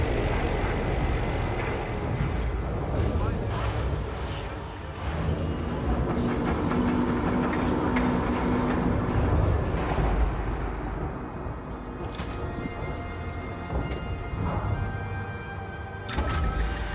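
A ship lifts off from a station in the space game Elite Dangerous: a continuous heavy rumbling roar with broadband engine noise, swelling and easing over seventeen seconds, punctuated by brief sharp hisses and clanks near the end, with no talk.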